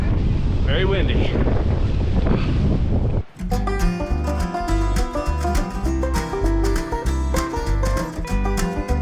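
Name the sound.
strong wind on Tour du Mont Blanc mountain trail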